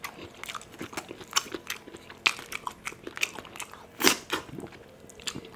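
Shrimp being bitten and chewed close up in a seafood mukbang, giving repeated wet crunches and smacking bites in an uneven rhythm with one louder crunch near the end, and no talking.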